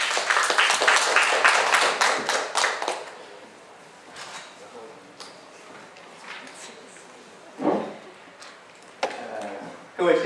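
An indoor audience claps to welcome a speaker at a health food association event, a dense burst of applause for about three seconds that thins into scattered claps and small knocks.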